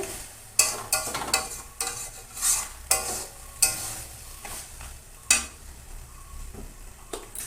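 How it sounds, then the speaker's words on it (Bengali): A spatula scrapes and stirs rohu fish head with ash gourd in a pan, sharp repeated clatters over a soft steady sizzle, close up with no talking. "এরকম আর একটু টানিয়ে নেব প্রায় হয়ে গেছে"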